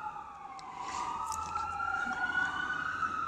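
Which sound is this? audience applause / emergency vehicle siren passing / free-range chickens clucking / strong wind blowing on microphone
emergency vehicle siren passing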